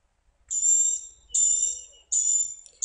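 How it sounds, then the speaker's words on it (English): A blue-gray gnatcatcher gives a series of very high, thin buzzy notes, about three drawn-out calls repeated at an even pace, clear and isolated against quiet surroundings. "Blue-gray gnatcatcher."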